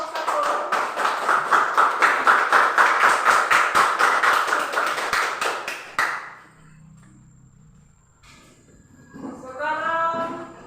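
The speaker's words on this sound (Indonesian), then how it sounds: "Tepuk tangan untuk kelompok 1." Classroom group clapping in rhythmic, fairly loud bursts for about six seconds, then the room falls quiet before a voice speaks faintly.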